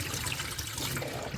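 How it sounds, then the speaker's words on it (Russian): Hot water poured into a container to soak knitting machine needles, a faint, continuous splashing and trickling stream lasting about a second and a half, heard alone without talking. "В самом начале я наливаю эти иглы в горячую воду"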